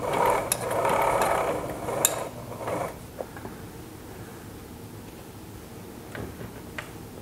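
A Sailrite walking-foot sewing machine stitches lighter fabric with a brief, busy mechanical clatter, then slows into sparse, quiet ticks and clicks, close by with no talking.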